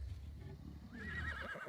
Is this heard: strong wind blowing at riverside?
no